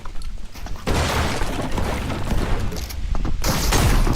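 Rapid bursts of shotgun gunfire in the video game Fortnite, loud blasts and crackling impacts packed closely together, continuing almost without break after a brief quieter start.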